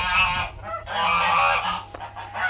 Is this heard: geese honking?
yes